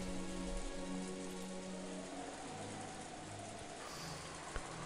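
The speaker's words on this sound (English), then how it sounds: "There was only the gentle, sorrowful rain." Gentle rain in the Umineko visual novel falls steadily on surfaces as a soft, continuous patter, with a low ambient hum underneath.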